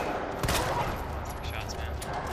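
Handgun-style shots fired in Resident Evil 2 during a Leon A speedrun: a few loud, sharp bursts spaced irregularly over a dense, noisy game soundscape, the strongest crack near the start.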